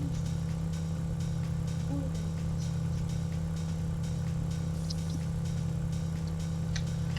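A car engine idles in the video game GTA 5, a low, steady hum with a constant drone throughout, fairly quiet and continuous.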